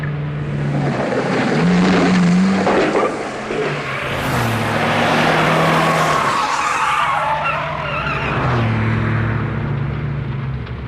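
Citroën DS rally car skidding and sliding hard on a road during a rally, engine roaring loudly with sustained tire squeal throughout, no talk.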